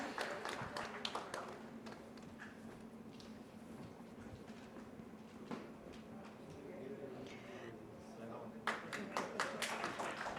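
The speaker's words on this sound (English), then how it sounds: "a huge round of applause for all the lucky winners" An audience at a broadband summit panel session applauds the lucky prize winners. Bursts of dense clapping at the start and again near the end frame a quieter stretch of crowd murmur.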